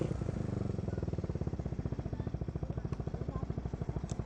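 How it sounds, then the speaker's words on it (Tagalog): A Yamaha Mio Sporty scooter fitted with an oil cooler runs steadily nearby, its single-cylinder engine giving a fast, even putter with a faint rattle, holding a constant idle-like pace throughout. "Tingnan natin kung umingay siya. Kung umingay yung makina."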